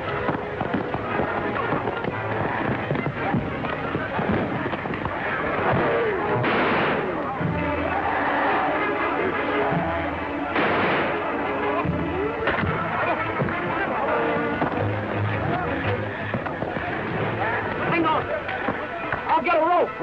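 Rifle gunfire in a 1937 film serial cracks out as a run of sharp, repeated shots, mixed with voices shouting over the scene.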